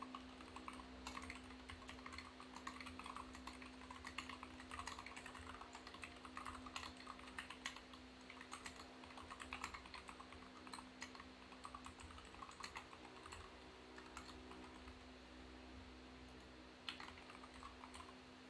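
Steady typing on a computer keyboard, quiet and continuous, with rapid clicking keystrokes running throughout over a low constant hum and no talking.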